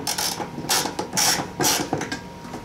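Someone tightens a clamp down on electrical wires while adding basement or garage light fixtures, producing several close, uneven ratcheting and creaking bursts with short pauses between them and no speech.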